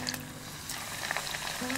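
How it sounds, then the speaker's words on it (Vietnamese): Breaded prawns deep-fry in hot oil over medium heat, giving a continuous crackling sizzle with small bursting pops, close and steady with no voices. "Mình chiên tôm với lửa vừa nha các bạn."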